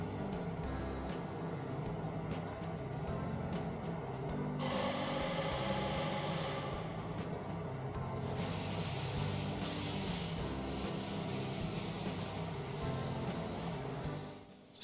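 A cardan shaft spins on a BVI-03-88 balancing machine during a measurement run, giving a steady, continuous mechanical whir and hum with a high tonal whine, moderately loud and unbroken throughout with no talking.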